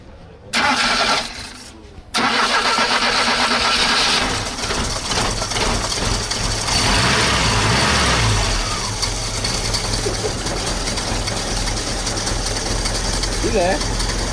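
A 1975 Chevrolet Chevette's 1.6 engine cranks, catches with a roar, then settles into a steady idle close by while people talk.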